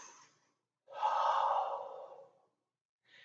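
A long, deep, airy exhale during bed yoga, framed by shorter soft breaths before and after, close and quiet against near silence.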